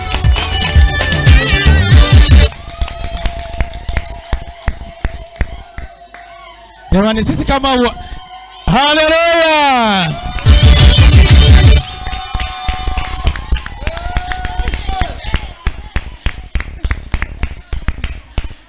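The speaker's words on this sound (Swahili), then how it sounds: "ongezeni makofi ya shangwe na vigeregere vijana" A church youth crowd at a youth celebration in the EAGT Kilimahewa church claps and ululates in loud bursts, with sharp rapid claps and high wavering trills rising between stretches where someone speaks.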